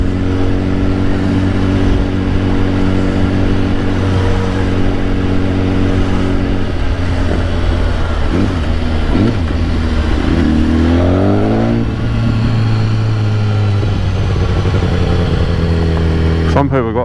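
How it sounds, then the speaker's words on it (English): A BMW HP4 superbike filters through commuter traffic, its engine droning loudly and steadily up close, with pitch shifts as the rider rolls the throttle on and off and wind rushing past. "BMW's most evil bike coming through"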